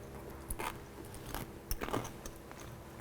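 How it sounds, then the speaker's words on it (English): Crunch of crispy pork gyoza with a lacy, pan-fried lattice bottom, heard as a few short, close, crackling bites over a quiet background. "listen to the sound of that crunch"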